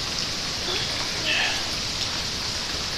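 Heavy rain as Hurricane Irma arrives in Citrus County, Florida: a steady, broad hiss of downpour, fairly close and constant, with no clear talk.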